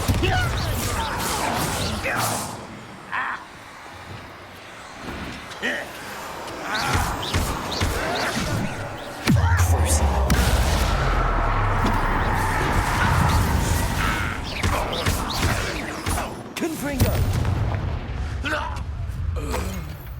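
Bombarda blasting spell in Hogwarts Legacy, set amid a busy fight: several heavy booms and crashes break through a dense wash of combat noise and effects.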